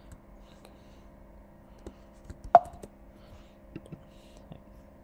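Keys on a Mac computer keyboard are pressed for the Command-Z shortcut: a handful of faint, scattered clicks and taps, with one sharper keystroke near the middle, in a quiet room.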